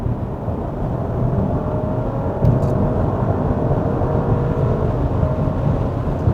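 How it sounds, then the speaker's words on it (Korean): Audi Q7 55TFSI under hard acceleration in normal comfort drive mode, engine pulling up toward 5000 rpm as a steady muffled cabin roar with a faint rising tone and no voices. "가속 페달을 꽉 하고 밟자마자 얘가 잠깐 나가라고 알았어 한 다음에 바로 RPM을 5000rpm까지 쭉 올려주면서"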